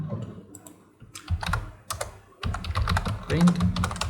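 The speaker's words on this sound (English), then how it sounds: "So I'll type my first Python program over here, that's print." Rapid keystrokes on a computer keyboard as Python code is typed, a busy run of close clicks in uneven bursts with a short pause, nothing else competing.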